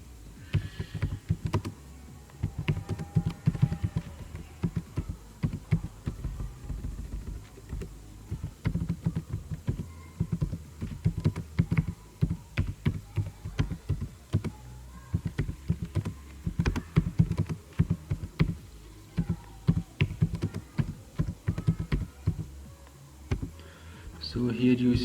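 Keys clatter on a computer keyboard as text is typed into PowerPoint, quick irregular bursts of clicks running steadily throughout at close range.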